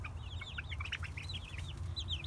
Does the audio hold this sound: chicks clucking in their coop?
yes